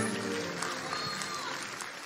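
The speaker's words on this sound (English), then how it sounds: "applause, please, for all of our competitors in that class" Audience applause for competitors at a dance competition prize giving, a sustained clatter of many hands clapping at moderate distance, with a voice speaking over it.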